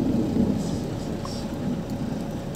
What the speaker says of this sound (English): It's so much hail.